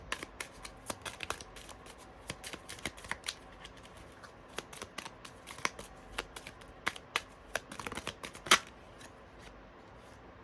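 Tarot cards being shuffled make a steady run of soft, close riffling snaps and taps with small louder flicks, heard alone without talk.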